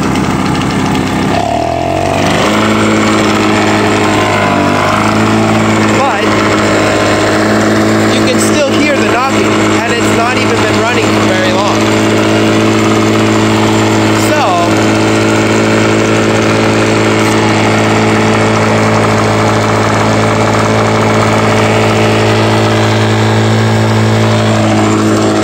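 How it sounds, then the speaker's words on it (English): A 1996 Toro commercial mower's two-stroke engine runs loudly up close, with a few early changes in pitch before settling into a steady, buzzing idle that continues for a long stretch. "The engine seems to be a lot happier now. It's running a lot better."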